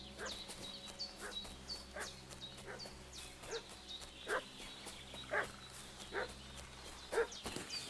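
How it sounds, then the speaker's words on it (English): A dog in the medieval video game Kingdom Come: Deliverance 2 barking in short repeated bursts at a middle distance, set over a quiet outdoor ambience with faint birds and insects. "What's that dog making such a fuss about?"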